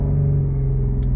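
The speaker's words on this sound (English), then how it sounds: "I'm going to set the launch RPM to 2500. So I'm revving upwards" Audi S4/S5 3.0T supercharged engine held at launch control RPM, a loud, close, steady low rumble with a constant droning tone and two faint clicks near the end.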